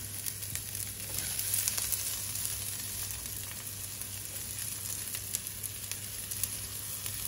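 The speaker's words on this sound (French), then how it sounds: "on va déjà faire revenir nos oignons, que j'ai directement émincés pour gagner du temps" Sliced onions sauté in a pan for paella, giving a soft, steady sizzle with light scraping from stirring, close but fairly quiet.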